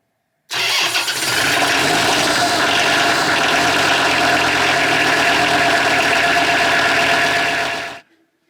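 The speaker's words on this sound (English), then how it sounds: "Then you can start the tractor up." A Kubota M4900 tractor engine cranks and catches, then idles steadily and loudly for several seconds before cutting off abruptly.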